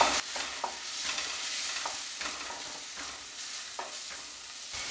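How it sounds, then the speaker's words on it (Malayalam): Potato masala with a spoon of tomato sauce being stirred in a pan, steady scraping strokes over a soft sizzle of frying, close and clear with no talking. "1 ടേബിൾ സ്പൂൺ ടൊമാറ്റോ സോസ് ചേർത്ത് കൊടുക്കുക എന്നിട്ട് വീണ്ടും എല്ലാം കൂടെ നന്നായിട്ട് മിക്സ് ചെയ്ത് കൊടുക്കുക"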